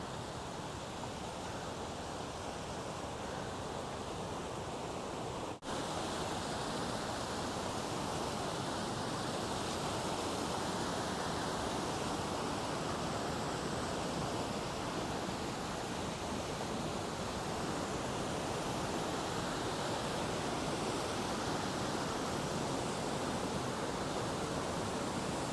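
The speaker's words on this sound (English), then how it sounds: "Lots of water coming down." Water rushing down a stream in Glacier Gorge, Rocky Mountain National Park, a loud steady broadband roar heard close and continuously for the whole stretch, with no voices.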